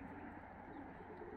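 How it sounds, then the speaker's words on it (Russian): Fighting pigeons cooing in Tbilisi, Georgia, a soft low continuous coo under faint background noise, quiet and fairly distant. "я выпущу голубей и покажу моих голубей"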